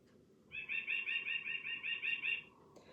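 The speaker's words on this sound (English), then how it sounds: "I need to run to the clock and see which bird it is." A bird clock chimes a recorded bird call, a fast, evenly pulsed trill of about a dozen bright notes lasting two seconds, moderately loud over a low indoor hum.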